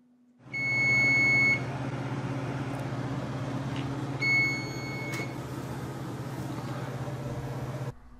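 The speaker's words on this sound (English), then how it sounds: "the oven will constantly beep at you until you cancel the beeping" A GE 30-inch gas range, model JGBS66REKSS, gives two long electronic beeps, a second apart, over a steady low appliance hum that continues alone before cutting off near the end.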